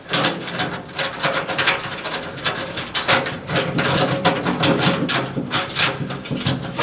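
A ratchet tightens a large stainless steel screw on a Recteq Deck Boss 800 grill during assembly, a fast, continuous, loud clicking close to the microphone with no pauses.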